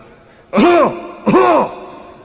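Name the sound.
voice imitating a cough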